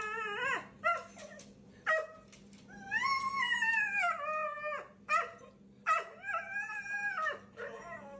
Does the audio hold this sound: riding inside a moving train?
no